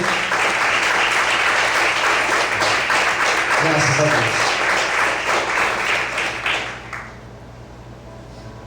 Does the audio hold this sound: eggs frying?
no